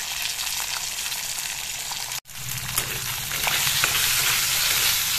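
Leucas aspera greens curry with fish, salt and turmeric cooking in a pan, giving a dense, continuous sizzle with soft stirring scrapes, briefly cut by a short silence before the frying resumes loud and close.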